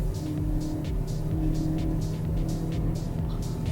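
A 2025 Kia Seltos HTK (O) with a naturally aspirated engine pulls after a downshift, a steady engine drone with road and tyre noise and faint pulsing wind rush throughout, without any talk.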